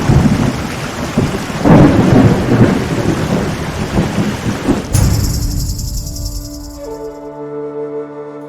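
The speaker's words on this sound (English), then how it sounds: "Sounds of like running water, rain. Okay, we've got rain. We've got lightning." Thunderstorm with heavy rain in the video game Pantheon: Rise of the Fallen, a loud, close downpour with rolling thunder that fades, then cuts to a quiet musical tone.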